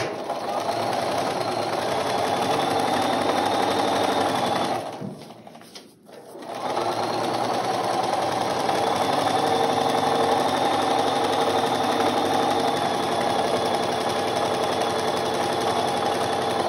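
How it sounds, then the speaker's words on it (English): A sewing machine runs steadily and close by while stitching a bridal bouquet border, with a loud continuous mechanical whir that pauses briefly midway, then resumes at the same pace. "I'm going to sew on the line."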